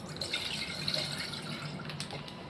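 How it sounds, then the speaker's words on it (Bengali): Milk from packets pours steadily into a pan for chhanar payesh, a close, continuous liquid splashing and trickle with no voices. "দুধটা ঢেলে দিচ্ছি।"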